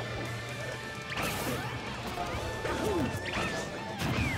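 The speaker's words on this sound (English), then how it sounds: "This is the down smash." Down smash attack in Super Smash Bros. 4 at a tournament match, a sharp crashing impact with whooshing effects, several hits landing over continuous game music and crowd noise.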